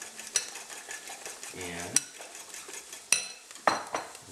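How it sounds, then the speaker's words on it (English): Eggs whisked for an omelette with metal utensils clinking against a bowl, a short rapid run of whisk strokes amid scattered sharp clinks, with a pan heating nearby and a brief spoken word. "I'm going to whisk these a little bit more"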